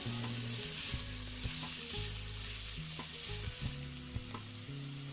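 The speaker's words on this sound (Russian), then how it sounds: "Обжарьте лук до прозрачности на среднем огне около 3 минут, регулярно помешивая" Chopped onion fries in vegetable oil in a pan over medium heat, a steady dense sizzle with occasional scrapes and clicks of stirring, over a low droning hum.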